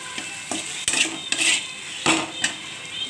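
A utensil stirs green hog plum curry with mustard, poppy seed and green chili in a metal pan. Several distinct scraping clanks ring out close up over a soft sizzle.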